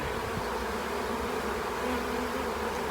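Honeybees buzzing steadily as they are moved by hand into a new hive box, a close, continuous drone of many insects with no talking.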